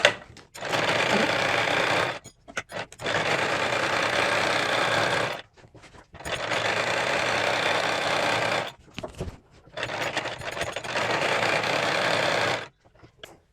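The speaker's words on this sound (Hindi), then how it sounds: "लास्टिक को खींचते हुए सिलाई करेंगे हम।" A sewing machine stitches stretched elastic into a palazzo waistband, running in four loud, steady bursts of rapid stitching with brief pauses between them.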